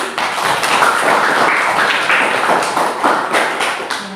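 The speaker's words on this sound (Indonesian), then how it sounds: "Tepuk tangan untuk Irma" A classroom of students claps for a classmate named Irma, a dense, loud patter of hand claps that runs without a break and tapers slightly at the end.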